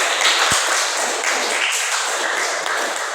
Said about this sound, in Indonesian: mari kita beli aplaus buat teman kita